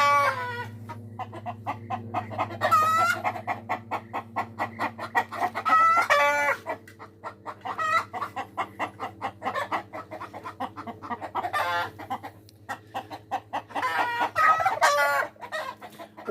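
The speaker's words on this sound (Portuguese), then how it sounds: "Tá acontecendo revolução aí no galinheiro?" Chickens in a rural coop cluck busily and repeatedly while a rooster crows several times, loud and close over a steady low hum, with no talking.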